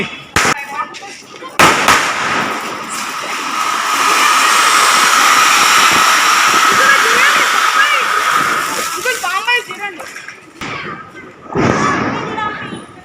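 Diwali firecrackers burst and fizz loudly, with sharp cracks at the start and a long crackling hiss lasting several seconds. People talk and shout throughout.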